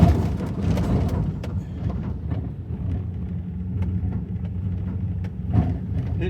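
A vehicle engine chugs along in first gear on a wildlife-area road trip, giving a steady low rumble with soft knocks and a brief louder surge near the end, no voices.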